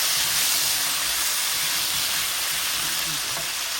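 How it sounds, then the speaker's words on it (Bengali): Cut potatoes sizzle loudly and steadily in oil left over from frying eggs, a dense, even hiss that stays constant throughout. "সেই ডিম ভাজার তেলের মধ্যে আমি আলুটা দিয়ে দিচ্ছি।"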